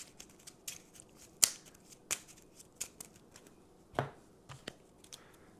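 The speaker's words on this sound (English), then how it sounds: "Shuffle up the Conjuration deck." A deck of cards shuffled during an Ashes Ascendancy card game, heard as a string of quiet, crisp riffling snaps and clicks, irregular and close, with no talking.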